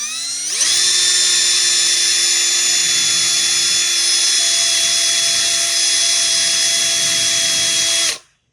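A die grinder fitted with a carbide burr spins up quickly and holds a loud, steady high-pitched whine while cutting an aluminum bar, then cuts off abruptly at the end.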